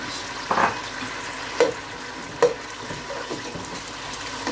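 Ginger fries in a pan with a soft, steady sizzle, broken by a few sharp clinks or stirring knocks, heard close up with no talking.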